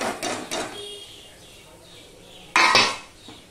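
Fried okra and three green chillies being mixed in a pan, giving a few sharp metallic clanks and scrapes of a spoon against the pan at the start and a louder clattering burst near the end, with quieter kitchen noise between.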